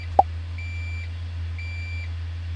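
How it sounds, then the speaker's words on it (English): Suzuki Jimny chiming when 4-low fails to engage, a click followed by two evenly spaced electronic beeps over a steady low engine hum inside the cabin. "it just beeps and it doesn't go in."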